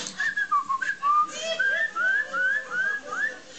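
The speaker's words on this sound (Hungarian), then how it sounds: "így fütyöngettem magamnak" A man whistles a series of short, bright melodic phrases with brief pauses between them, close and alone, in the manner hussars used to whistle to their horses.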